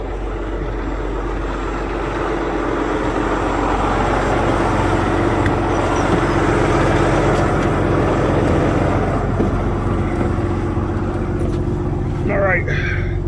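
A truck engine idles and rumbles steadily at low pitch while the truck is swung into position, with a constant drone throughout and people talking over it.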